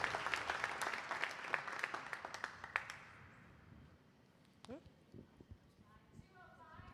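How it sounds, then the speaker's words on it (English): Crowd applause at a charity gala auction after a painting sells: dense, loud clapping for about three seconds that then fades out, leaving a quieter room with scattered faint knocks and distant chatter. "Give them a round of applause."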